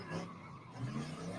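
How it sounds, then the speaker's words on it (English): A big-block truck engine revs hard at a chaotic freeway street takeover, a sustained rough roar that rises and falls with a tire-squeal edge, heard at a distance through the crowd noise. "That truck sounds flipped out, though."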